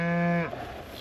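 A cow on a farm, mother of newborn twin calves, gives one loud, close moo with a steady tone that breaks off abruptly halfway through, leaving quiet barn ambience.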